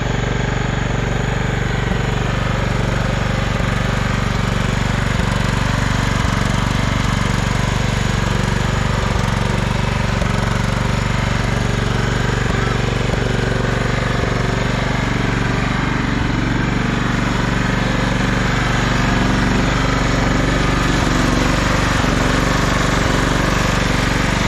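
Simplicity Regent lawn tractor engine running loud and close, a constant low mechanical drone with a steady pulse and no letup or talk.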